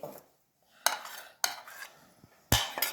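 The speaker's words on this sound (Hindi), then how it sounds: "और अच्छी तरह इनको फेंट लेंगे, मिक्स करेंगे इस तरह" Eggs and chopped vegetables are beaten in a bowl: a few separate clinks and scrapes of a utensil against the bowl, with short quiet gaps between them.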